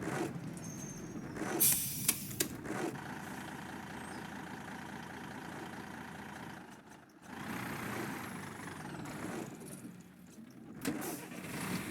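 A Volvo B10 bus engine idles in the OMSI 2 driving simulator, a steady low rumble with a few brief clicks and a short dip partway through, heard alone with no talk.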